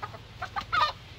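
A native chicken gives a few quick soft clucks, close by over a low background hum, lasting only a moment.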